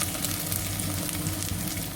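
Garlic and onion frying in hot oil, a steady, close sizzle with crackling pops and faint stirring scrapes, unbroken throughout.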